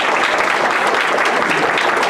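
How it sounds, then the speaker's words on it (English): An audience at a human trafficking awareness event applauds Rachel, a steady, dense round of clapping that fills the whole moment without pause, with no voices over it. "So will we please give Rachel a big round of applause?"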